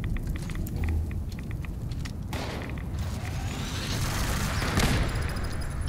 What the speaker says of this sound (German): Schieß mal auf den Truck.